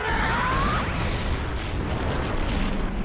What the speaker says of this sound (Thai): ระเบิดสัตว์หางครับ กระสุนสัตว์หาง